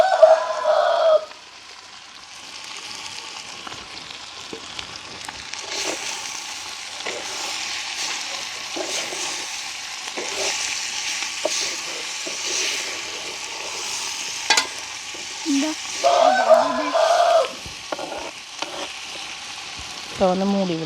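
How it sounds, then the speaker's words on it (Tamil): Thumbangai vegetable sautéed with salt in a pan in a village kitchen, a steady soft sizzle with scraping stirs throughout, while a rooster crows nearby at the start and again near the end. "உப்பு போட்டால் இன்னும் வேகமாக வதங்கிடும் உங்களுக்கு."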